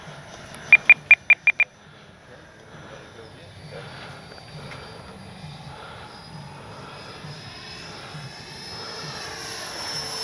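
A HobbyKing FlyCat V2 RC jet whines overhead during its maiden flight at about three-quarter throttle, a steady rising hum building slowly from a distance after a quick burst of five beeps at the start.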